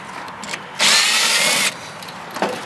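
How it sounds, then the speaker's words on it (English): A power drill whirs in a single sharp burst of just under a second while backing screws out of a microwave oven being scrapped, with faint handling clicks before and after. "first thing I try to do is take all the screws out that I can, no matter where they're at"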